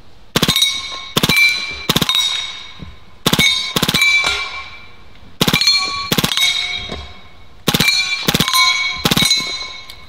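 A Hatsan Blitz full-auto .30 caliber air rifle fires quick bursts at steel star targets, each burst a rapid cluster of three or four sharp ringing metallic clangs that fade out, repeated about six times.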